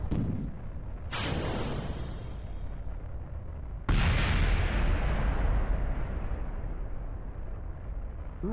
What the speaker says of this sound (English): Ooh, that was a nice explosion there.